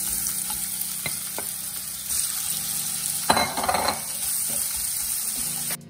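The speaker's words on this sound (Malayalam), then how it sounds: "ഇനി അല്പം വെളിച്ചെണ്ണ ഈ പാനിൽ തന്നെ ഒഴിച്ച് ബാക്കിയുള്ളത് കൂടെ ഇതുപോലെ ഫ്രൈ ചെയ്തെടുക്കാം." Prawns fry in coconut oil in a pan with a steady, close sizzle, a few light clinks, and a louder burst of spattering midway.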